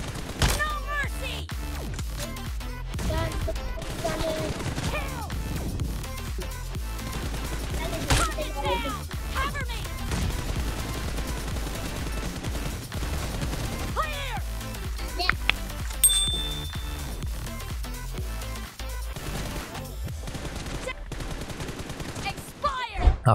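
Rapid bursts of gunfire and explosions from a BGMI 8v8 team deathmatch played on a OnePlus phone, dense overlapping shots filling the whole stretch with some brief voices in the mix.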